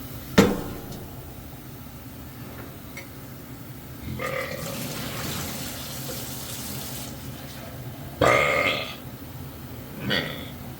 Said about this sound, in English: This stuff gave me a lot of burps, even though I drank only a little bit.